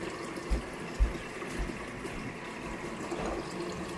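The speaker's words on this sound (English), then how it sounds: "I'm going to pour cold water over top of that" Cold water pours from a tap into a pot of boiled eggs, a rushing, gurgling flow with a couple of soft thumps near the start.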